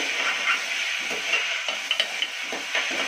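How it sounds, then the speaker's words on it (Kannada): Vegetable palya with hindi spice mix and salt fries in a pan, a steady soft sizzle broken by several light spoon scrapes and stirs. "ಒಂದು ಸಿಕ್ಸ್ ಟೀ ಸ್ಪೂನ್ ಉಪ್ಪು ಹಾಕ್ಕೊಂಡು ಫ್ರೈ ಮಾಡ್ಕೊಳ್ಳೋಣ"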